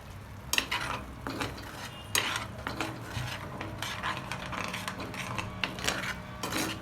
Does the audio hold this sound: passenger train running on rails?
no